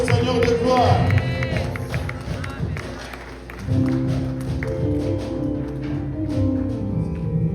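At a church's tenth anniversary service, a congregation claps and cheers loudly together, with voices and rhythmic handclaps filling the room, dipping briefly before swelling again.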